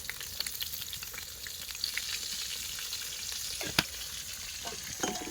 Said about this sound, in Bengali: কড়াটা মেজে ধুয়ে আবার চাপি দিলাম, এবার আলুগুলো ভাজবো